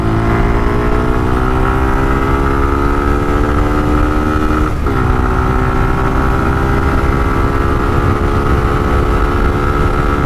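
Suzuki Gixxer Monotone motorcycle pulling hard through the gears in a speed test, a loud steady engine drone with rising pitch and one quick gear-change dip midway, continuous throughout.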